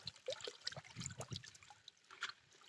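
Salt is stirred into a large container of water, about one kilo to five litres, giving soft close sloshing, trickling and splashing in uneven bursts at low volume.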